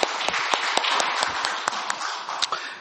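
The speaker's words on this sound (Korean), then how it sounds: "영광의 박수를 주님께 돌리십시다" A church congregation claps together, a close, moderately loud spread of individual hand claps with distinct sharp slaps standing out over a steady patter, no talking.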